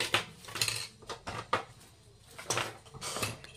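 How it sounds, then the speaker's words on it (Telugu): Small metal kitchen utensils and miniature pans clink and clatter as they are gathered into a set, with several sharp bright knocks spread over a few seconds, close and fairly quiet. "అలానే ఈ టూల్స్ అన్నీ కూడా ఒక దగ్గర పెడతాను మిస్ కాకుండా"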